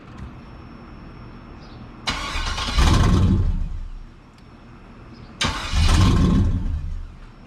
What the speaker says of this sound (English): We'll hook the battery up and then start it up and we'll see how she sounds.